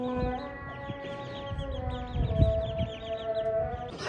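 A chicken clucks softly near at hand, with a run of high, repeated chirping calls layered over low scuffling sounds.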